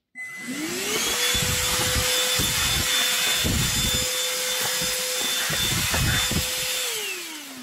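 A handheld vacuum cleaner without a nozzle spins up with a rising whine, holds a loud, steady whirring drone with a high tone above it, then winds down at the end.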